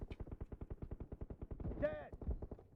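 Rapid bursts of automatic gunfire from the mobile battle royale game PUBG Mobile, a steady stream of sharp repeated shots with a brief whooshing effect partway through, loud and close.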